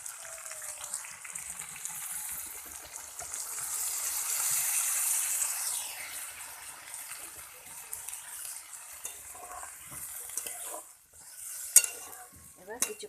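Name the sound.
stirring beans and potato fry in a pan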